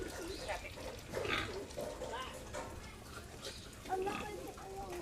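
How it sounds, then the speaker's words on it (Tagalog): Wild boars kept as breeders on a mountain farm in Laguna grunt and snort continuously, fairly close, with some voices also heard in the background. "ito po yung aming mga wild boar"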